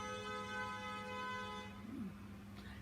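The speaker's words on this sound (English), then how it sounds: "Yeah, the wind's open still. That's why I heard that car horn." A car horn sounds outside through an open window, a sustained distant honk lasting under two seconds, then quieter room sound and a faint voice.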